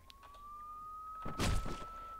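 A strange siren in the video game Hotline Miami: a steady, slightly rising electronic tone holds throughout, with a loud thudding burst in the middle.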